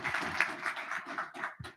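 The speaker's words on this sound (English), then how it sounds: "Another round of applause for Team AgriBloom" Quiet round of applause from a small audience at a campus challenge judging event, a soft patter of many hands clapping that fades and swells briefly before ending.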